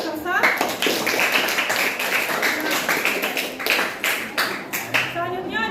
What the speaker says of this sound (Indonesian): tepuk tangan untuk kelompok Elang Perkasa